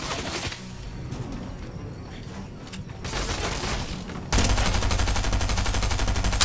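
Automatic gunfire in Fortnite, with bursts of rapid shots followed by a dense, loud sustained stream of fire at the close, mixed with game ambience.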